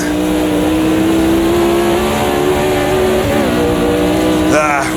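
A Formula Vintage race car engine in the Automobilista 2 racing game holds a loud, continuous high-pitched drone close up, its pitch wavering slightly before a brief shift near the end, with speech mixed in.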